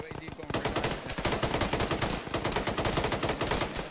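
Rapid bursts of automatic gunfire rattle continuously, dense and fairly loud, like a game firefight, with faint voices underneath.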